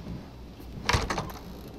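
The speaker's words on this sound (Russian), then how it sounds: "Сейчас дверь открою, а он там." A door swings open in the survival-horror game Resident Evil 7: Biohazard. A short creak and thud rise briefly out of a quiet, low background.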